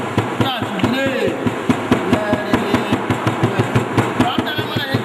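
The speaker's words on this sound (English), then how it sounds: "you will use your hammer to hammer it" A hammer pounds glued leather during shoemaking in a fast, steady run of sharp, close knocks, with a voice talking faintly beneath.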